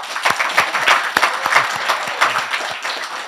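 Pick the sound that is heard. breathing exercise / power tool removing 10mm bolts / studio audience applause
studio audience applause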